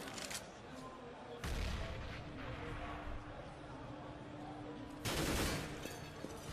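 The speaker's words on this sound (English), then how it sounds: "Shots fired." Counter-Strike: Global Offensive gunfire during a DreamHack Winter 2013 semifinal match on Nuke, with a few short bursts of shots spaced apart over a low hum of game ambience and faint background noise.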